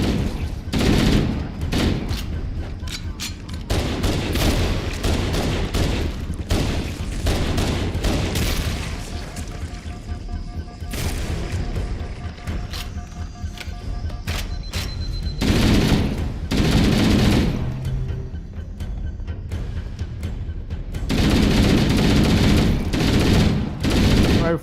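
Shotgun blasts and other gunfire in the Halo video game ring out in dense bursts of booming shots, with intermittent quieter gaps and occasional talk in between.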